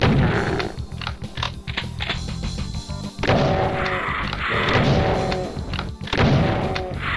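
Rapid gunfire and thudding blasts from the shooter game DOOM II: Hell on Earth, dense and loud throughout, with a brief lull near the three-second mark before the barrage resumes with more shots and impacts.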